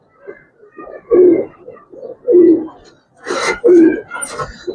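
Two female red Chulli flying pigeons coo nearby in a series of soft, throaty calls with short gaps, growing slightly louder toward the end, close and clear with no talking.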